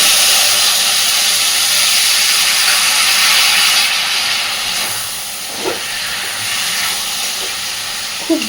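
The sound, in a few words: water added to hot frying spices, sizzling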